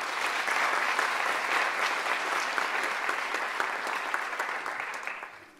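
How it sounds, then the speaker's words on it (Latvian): Applause at a regional sports laureate awards ceremony, an audience clapping in a sustained, fairly close ovation with some rhythmic claps showing through, holding steady before fading out at the end. "Vēlreiz ar aplausiem."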